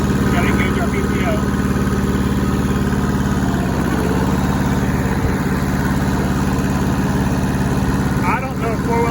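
An old, rusty Hinomoto tractor engine runs steadily in first gear with the PTO mowing, a close continuous rumbling drone with someone talking over it.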